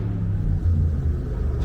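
Cadillac CTS-V with its mufflers removed, a steady deep exhaust rumble from a close, continuously idling or lightly revved V8, low and full throughout with no voices.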